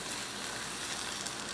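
Meat filling for empanadas sizzles steadily in a pan after a splash of water, a continuous close hiss and crackle with no talk.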